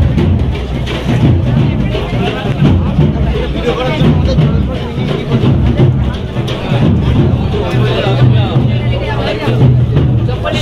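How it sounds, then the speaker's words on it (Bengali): A dense crowd mills about at the Ghutiyari Sharif shrine fair in the rain, a steady hubbub of overlapping voices and movement with nearby talk throughout. "দেখতে পাচ্ছ বৃষ্টির মধ্যেই অনেকটাই ভিড় আছে এখনো"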